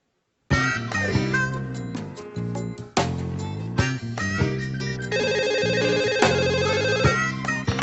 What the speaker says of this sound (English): I expected Sarah to answer the phone.